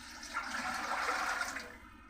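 Water pours from a 1-litre container into a larger batch for a homemade crop fertilizer, a steady close gush lasting about two seconds before tapering off.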